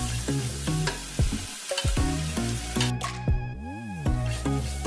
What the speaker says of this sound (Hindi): और अब हम इसे लो फ्लेम पे 5 मिनट्स के लिए ऐसे ही फ्राई करेंगे, जिससे बहुत अच्छे से क्रिस्प हो जाए।